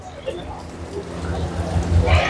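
Steady rain falling outdoors during a Sunday outing toward ICONSIAM in Bangkok, a constant wash of patter with low rumble underneath and a slight swell toward the end.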